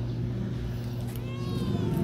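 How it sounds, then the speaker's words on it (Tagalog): A black cat meows, a short close cat call over a steady low background hum, heard alone without talk. "Ganda-gandang pusa."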